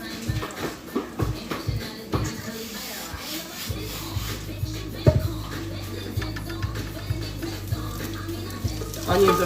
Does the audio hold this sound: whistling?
no